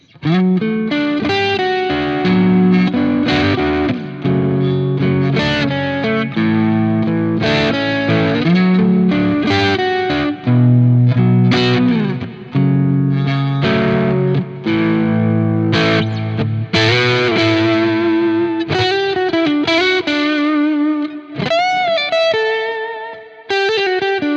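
Electric guitar through a Quad Cortex Freeman rhythm amp model with gain around 1, a light, crunchy low-gain tone strumming chords and picking short riffs, steady and close, slight grit on each note.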